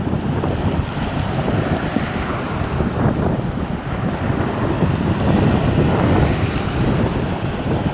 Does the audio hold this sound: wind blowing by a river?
yes